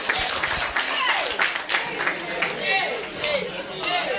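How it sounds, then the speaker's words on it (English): Crowd applause and cheering at a workshop fill the room, steady and fairly loud, with voices chattering over the clapping throughout. "Clap for them."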